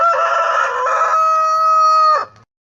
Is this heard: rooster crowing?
yes